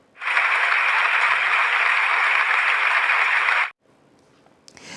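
Loud, dense applause from an audience at a speech, starting almost at once and holding steady for about three and a half seconds before cutting off sharply into quiet.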